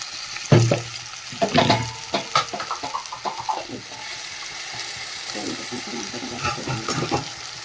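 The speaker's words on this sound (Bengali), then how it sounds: "মশলাটা ভালো করে কষিয়ে নিয়েছি আলুর সাথে" Spice paste with chilli powder frying together with potatoes in a pan, crackling sizzle with bursts of stirring and scraping early on, settling into a softer continuous fry.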